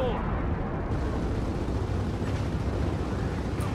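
Rocket explosions in the shooter video game Gears of War 4 merge into a continuous loud, dense rumble with booming low-end blasts throughout, heard beneath game noise.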